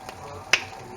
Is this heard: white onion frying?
no